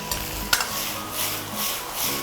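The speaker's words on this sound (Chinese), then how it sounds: "我们先下这个虾仁儿，大火去翻炒它，最大的火" Shrimp stir-fried in a wok over the highest flame, a steady sizzle with sharp scrapes and tosses of the spatula against the pan, close and alone without speech.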